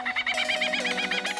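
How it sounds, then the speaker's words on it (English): A Southern ground hornbill calls in a series of about a dozen rapid, evenly spaced booming-cackling notes over a steady low tone, close and clear, with no one speaking. "Southern Ground Hornbill."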